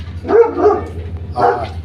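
Two deep, loud barks from a big dog nearby, a short pause between them, over a low background hum.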